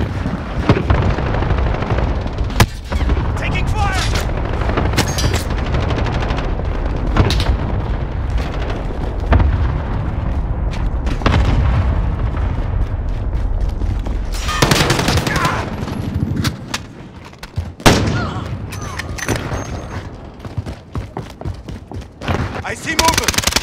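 Sustained gunfire in a Modern Warfare multiplayer match: dense bursts of automatic weapons and sharp shots with occasional booms, loud and continuous, thinning briefly in the middle before picking up again, with game voice callouts mixed in.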